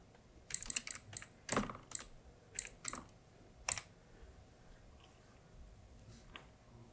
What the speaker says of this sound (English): And then we'll go and type.